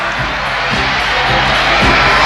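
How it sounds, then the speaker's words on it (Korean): A stadium crowd roars after a headed goal that levels the score at a youth world championship final in an animated football match. The cheering is a broad, steady wash that swells louder toward the end. "오늘 빅토리 경기장은 관중들의 환호성으로 떠나갈 듯합니다"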